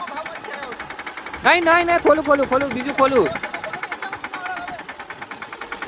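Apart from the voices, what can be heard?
small tractor engine running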